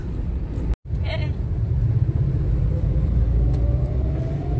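A car ride with a steady low engine rumble and road noise filling the cabin, continuous and fairly loud throughout, with a brief dropout near the start.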